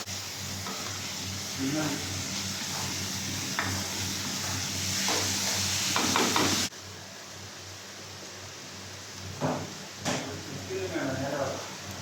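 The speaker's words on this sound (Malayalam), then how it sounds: "ഉലുവയും കൂടെ ഇട്ട് പൊട്ടിക്കുകയാണ്" Fenugreek seeds splutter in hot oil, which hisses and crackles steadily, with small pops and spits rising over a constant sizzle. It quiets abruptly partway through, then flares up again.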